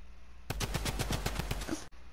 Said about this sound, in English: I guess I'll just shoot through the walls.